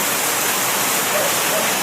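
Heavy rain pours down steadily and loudly in a broad, even hiss, falling on a home with a damaged roof during a rainy afternoon.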